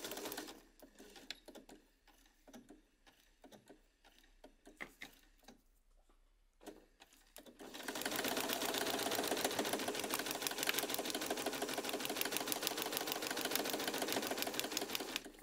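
A home sewing machine with a quarter-inch foot stitches quilting fabric, starting with scattered soft handling clicks and faint taps, then breaking into a loud, steady, rapid mechanical whirr for the second half.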